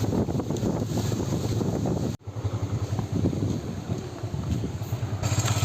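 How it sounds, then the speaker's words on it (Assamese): Strong storm wind buffeting outdoors, a loud continuous roar with gusty rumble that briefly cuts out midway and then resumes. "বৰষুণ নিদিলে অকল বতাহ দিলে"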